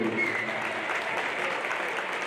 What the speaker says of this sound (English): Let's have one last big round of applause for all of our 2022 boys basketball seniors.